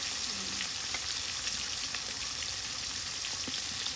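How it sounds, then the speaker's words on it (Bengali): Tilapia fish frying in oil in a pan make a continuous, dense close sizzle with faint crackles scattered throughout and no one speaking. "মাছগুলো ভাজি করে গেলাম"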